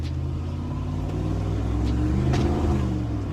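A 4th gen Ram truck engine accelerates at medium throttle in eco mode with a throttle controller fitted, a steady close rumble that swells slightly with road and cabin noise, without talk.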